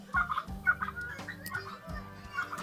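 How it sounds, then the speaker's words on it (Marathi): Rooster and other fowl in a bird enclosure at a Nashik farm eatery give a handful of short, fairly faint clucks and calls in quick irregular bursts, with no talk over them. "इथे कोंबडा पण आहे एक"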